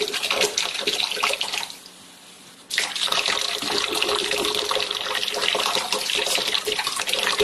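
Water gushes steadily from a tap or outlet, a loud continuous rushing stream that briefly drops to a quieter trickle before surging back to full flow.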